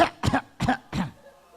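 Four harsh coughs in quick succession, close and fairly loud, followed by a brief quiet tail.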